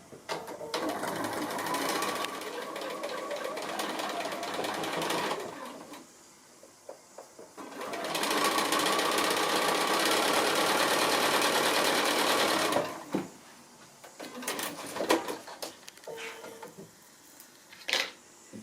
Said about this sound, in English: I'm going to go ahead and sew that seam across now.